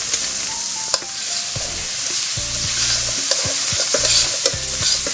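Garlic cloves sizzle in a pan with a steady loud hiss, while a utensil scrapes and stirs across the pan bottom every second or so.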